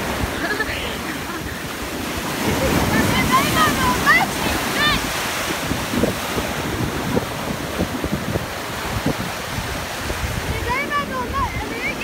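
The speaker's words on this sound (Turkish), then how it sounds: "gördüğünüz gibi çok dalga var" Waves break steadily on the shore at Karaburun beach near Arnavutköy, Istanbul, and strong wind buffets the microphone. Voices come and go in the background.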